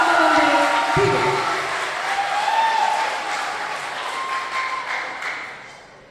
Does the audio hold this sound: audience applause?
yes